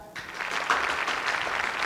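Audience applause at a Korean architecture talk show, a soft swell of many people clapping that rises after a brief quiet start and holds steady, moderately distant.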